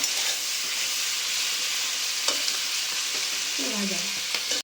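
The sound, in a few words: frying capsicum and onion with salt and turmeric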